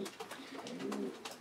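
A racing pigeon coos repeatedly in a soft, rhythmic series of low throaty calls, close and steady, with no other voices.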